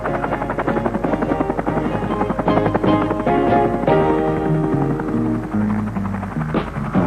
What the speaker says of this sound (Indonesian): Helikopter ini mensuplai 15 perkemahan gunung dengan makanan, muatan dan alat-alat besar